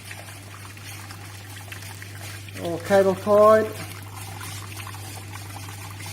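Water trickles in a small, steady stream from a reflux still into a collecting container, quiet and continuous beneath a low hum. Someone briefly speaks in the middle.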